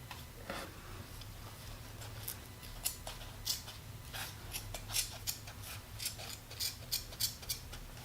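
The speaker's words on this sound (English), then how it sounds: "Flip my scissors over so I'm cutting the right way." Scissors snip through paper while a Dollar Tree snowman craft is made. The crisp cuts are close and come in an irregular series, with no talk over them.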